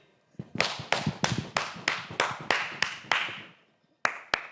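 Audience clapping on a television entertainment show's applause meter, a rhythmic series of about a dozen sharp, loud claps in a steady beat, pausing briefly before two final claps.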